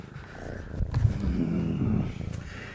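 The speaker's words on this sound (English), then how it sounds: "You going to go purr in the microphone so people can hear your loud purr?" A pet cat purrs close into a microphone, a low rumbling purr that swells and fades across a few breaths, loud and near, with no talking.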